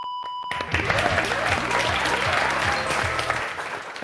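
A studio audience on the French TV game show Motus claps in a loud, sustained burst of applause that rises quickly after a brief tone and carries on for about three seconds.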